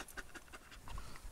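A dog pants close by in quick, quiet, breathy rhythm, faint and unaccompanied by speech.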